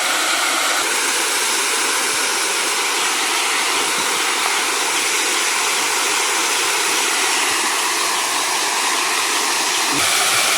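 A loud, continuous roar of rushing water from the nearby Rathi Bali waterfall, broad and unbroken, with no other sounds standing out.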